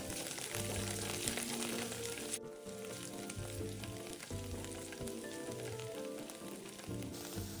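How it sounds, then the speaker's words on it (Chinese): Diced shiitake mushrooms stir-frying in scallion oil over medium heat: a steady, dense sizzle fills the whole stretch, with soft rhythmic scraping of a spatula underneath. "倒入锅内煸一煸香"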